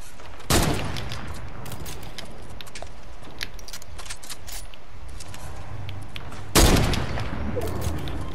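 Two loud bursts of video game gunfire ring out amid a duos match, one near the start and another near the end, over a steady background of game ambience and scattered clicks.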